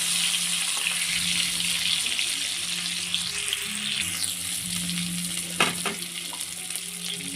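Tomato fries in a pan, a steady close crackling sizzle with stirring scrapes and a sharper burst of spatter partway through.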